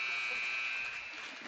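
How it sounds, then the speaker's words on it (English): A steady electronic buzzer at a youth 14U ice hockey game in Boise, Idaho sounds the end of a period, holding one long continuous tone from start to finish at moderate volume with some faint arena noise beneath. "there's the buzzer for the end of period"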